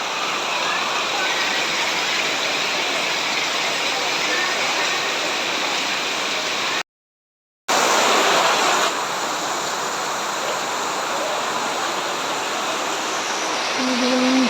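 Loud, continuous heavy rain hammers down on a tin roof in a thick wash of noise, broken by a brief cut of silence before the downpour resumes.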